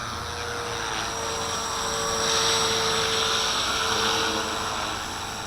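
A radio-controlled V450D01 helicopter hovers outdoors in high wind, its rotor and motor giving a constant high whine that swells slightly midway, with gusty wind noise underneath.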